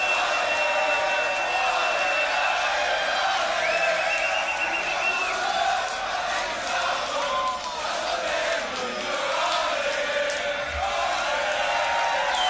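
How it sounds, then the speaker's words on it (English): A large crowd at a Grand Beatbox Battle tag team event claps, cheers and whoops loudly and continuously, with shouts rising out of the dense applause as a voice talks over it. "One more round of applause."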